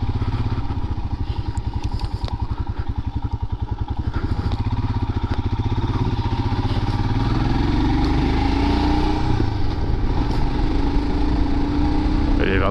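A Royal Enfield Himalayan single-cylinder motorcycle is ridden at road speed, its thumping engine steady and close with wind rush and some vibration clatter, no talking.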